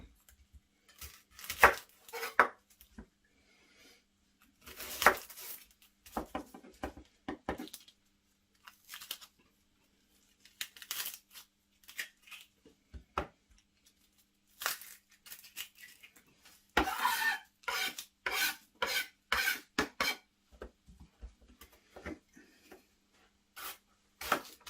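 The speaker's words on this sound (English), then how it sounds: "We'll chop up the onion." Onion being chopped on a board for a homemade Cornish-style pasty, irregular bursts of close, crisp knife cuts and crunches separated by brief pauses, quiet overall with no talking.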